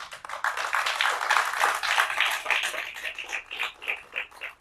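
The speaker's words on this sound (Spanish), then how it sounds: "También, por favor, un aplauso para ellos." Audience at an evening book launch and poetry presentation claps warmly, a moderate burst of applause with distinct individual hand claps that thins out and becomes sparser toward the end.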